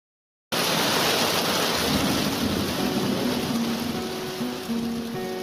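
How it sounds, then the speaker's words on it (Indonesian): Steady rain begins abruptly and keeps up a dense, even hiss over a low rumbling undertone, loud and constant throughout, with no voices. "Hujan merupakan fenomena alami di bumi yang sudah tidak asing lagi bagi kita."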